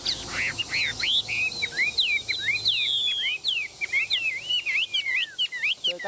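A songbird valued for quick, fine singing and fighting pours out rapid bright whistled phrases and chirps, close and loud, in quick runs with short gaps and no talking.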